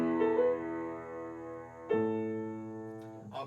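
Piano playing one measure from a university music lesson, with a held E in the tenor voice while the bass rests, then a fresh chord struck: sustained, ringing notes that decay slowly, close and clear, with no talking.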